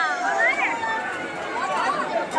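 Dense crowd chatter at the bathing pond of the Khatu Shyam temple, many overlapping voices murmuring and calling close by, steady for a couple of seconds.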